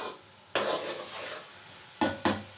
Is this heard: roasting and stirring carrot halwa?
yes